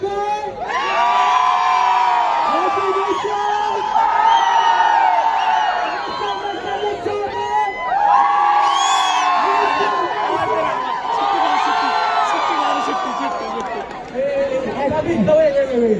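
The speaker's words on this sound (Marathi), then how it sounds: "एवढी प्रचंड गर्दी आहे इकडे." A dense crowd fills the Pune International Food Fest with loud overlapping chatter, shouts and occasional whoops, a continuous close wall of voices.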